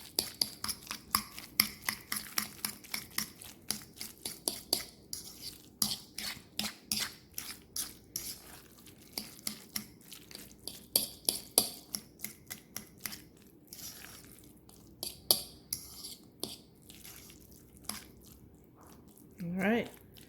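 Guacamole being mixed in a bowl after salt and cayenne go in, a long run of soft, wet squishing and tapping strokes in a steady rhythm, close and fairly quiet, with brief pauses.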